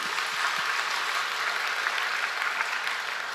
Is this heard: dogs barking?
no